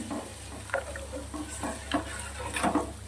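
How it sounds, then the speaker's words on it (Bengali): Eggplant slices frying in a pan, giving a soft, steady sizzle with scattered light pops and crackles, close but fairly quiet and with no voices. "এদিকে বেগুন ভাজা হচ্ছে"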